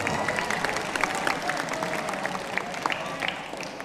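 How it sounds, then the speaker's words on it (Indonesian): An audience at a Ramadan show applauds with a steady, dense wash of clapping and light crowd noise that holds for several seconds with no speech. "Tepuk tangan dulu dong."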